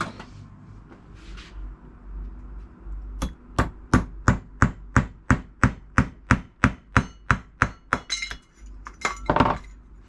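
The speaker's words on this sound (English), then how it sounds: "This empty can, maybe I can destroy this valve first." Breaking the valve off an empty aerosol can gives about fifteen sharp, evenly spaced metallic clinks up close, followed by a few rougher clattering knocks.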